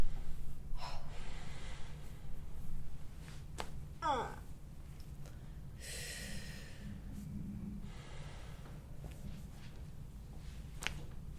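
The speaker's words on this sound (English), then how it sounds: "Deep breath in." A patient takes a deep breath in while lying on her side during spinal decompression, with the spine being pulled: a few soft, airy breaths build to one longer inhale over a steady low hum.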